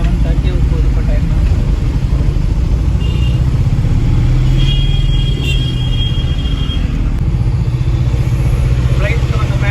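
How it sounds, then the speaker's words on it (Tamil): Heavy evening road traffic: a continuous low rumble of car and motorcycle engines close by, steady and dense throughout, with occasional higher whines and horn-like tones above it. "ஈவினிங் டைம்ன்றனால டிராஃபிக் செம்மையாக இருக்குது."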